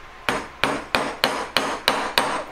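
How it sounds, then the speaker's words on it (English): A jeweller hammers a metal ring shank on a ring stick, seven evenly spaced ringing metallic blows, close and clear with short decays and no talking. "I'll put it on the ring stick and start bashing it about and filing it"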